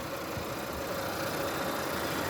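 The four-cylinder engine of a Renault Clio 3 GT idles with an even, continuous low hum and a faint mechanical whir, close and steady.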